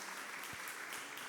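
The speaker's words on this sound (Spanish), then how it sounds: "Muchas gracias, un fuerte aplauso." Applause from an audience at a university journalists' week event, a brief, fairly faint wash of clapping heard on its own.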